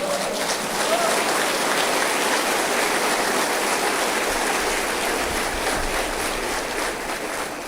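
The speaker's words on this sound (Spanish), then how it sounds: "Denle un aplauso al Señor." Church congregation applauding during a sermon on praise, a dense, loud, continuous wash of clapping filling the room that holds steady from start to finish.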